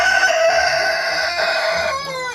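A crested rooster crows loudly and close by in one long, drawn-out call lasting a couple of seconds, with no talking.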